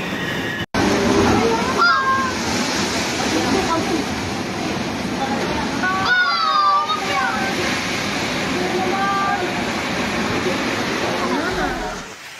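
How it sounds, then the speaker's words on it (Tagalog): Heavy typhoon rain pours in a dense, loud wash as Super Typhoon Uwan hits Catanduanes, with gusting wind and brief whistling tones rising over it; a voice can be heard amid the storm. "Zero visibility dahil sa lakas ng ulan. Ang hangin sumisipol."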